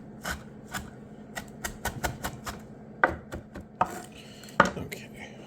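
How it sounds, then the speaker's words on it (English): A knife chops candied young spruce on a cutting board in a run of crisp, close knocks. The strokes are fairly even at first, then become sparser and irregular. "So this is 45 grams of candied young spruce. We're all going to get chopped together."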